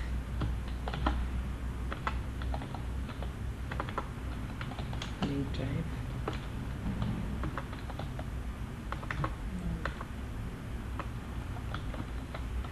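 Fingers type steadily on a computer keyboard, a long run of close, light, irregular key clicks at a moderate level, with faint talk in the background.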